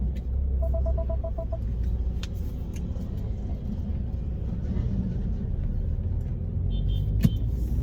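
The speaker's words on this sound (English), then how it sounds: "you need to get up to that level of RPM so that you can get the proper exhaust note out of the car" A Mini Cooper S Countryman JCW drives with a steady, loud engine and road rumble throughout, the exhaust note droning evenly rather than flaring, with a few brief faint tones and clicks over it.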